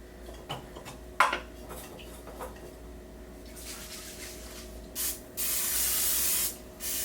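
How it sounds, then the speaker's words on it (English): A few short hisses from a cooking oil spray can into an air fryer, followed by one longer sustained spray, with light clinks of metal cookware beforehand. "So let's spray this."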